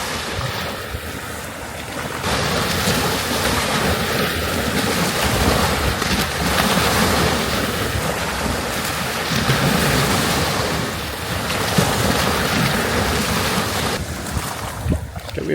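Wake waves from large passing boats wash steadily onto a deserted beach near high tide, a continuous surging roar of surf with wind noise over it and no talking.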